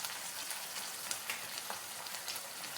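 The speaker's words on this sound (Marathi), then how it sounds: "आता हे सर्व आपण एकत्र छान असं परतून घेऊया." Spices and onion sautéing in a pan for pea khichdi, a faint, steady sizzle with light crackles and occasional soft stirring scrapes, no voices.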